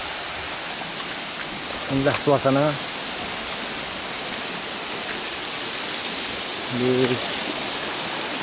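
A waterfall deep in the Aceh jungle, at Kampung Alumu in Sawang, North Aceh, gives a steady, full rushing roar that fills the whole clip, with brief bits of speech over it.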